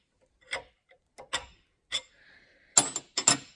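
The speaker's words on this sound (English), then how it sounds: "Use your wrench to give it a little snug." A wrench snugs the nut on a Schrader valve fill for nitrogen-filled shocks, a few sharp close metallic clicks and taps spaced irregularly, with a brief faint hiss in between.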